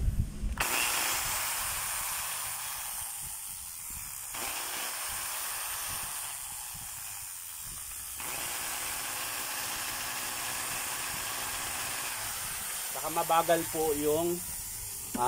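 A KR604RE hammer drill with a sparking, slow-running motor gives a continuous hissing, whirring drone in several stretches, separated by brief pauses, with a rattling burst near the end.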